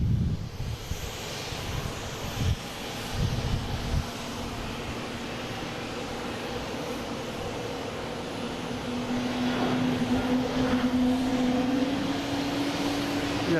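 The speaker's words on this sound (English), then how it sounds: "We got a Delta taking off." Delta airliner taking off from Boston Logan International Airport: a continuous engine roar with a rising tonal drone that grows steadily louder, with some wind buffeting on the microphone and no voices.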